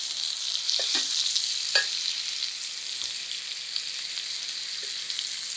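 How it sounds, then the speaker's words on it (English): Vegan food sears in a pan with a constant high hissing sizzle, close by, broken by a few soft taps and scrapes as pieces are flipped; no one talks. "I'm just gonna flip this. It's been searing for a couple minutes."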